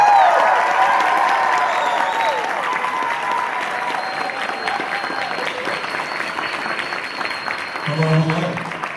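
A convention crowd claps and cheers to welcome two Dragon Ball voice actors, loud sustained applause that slowly thins out, with voices and a short louder burst near the end.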